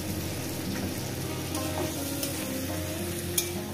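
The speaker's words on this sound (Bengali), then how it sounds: "সামান্য পরিমাণে দিয়ে এটা কষিয়ে নিই।" Small river fish curry with a little water sautéing in a pan, giving a steady close sizzle and frying hiss throughout, with occasional soft clicks of stirring and no voice.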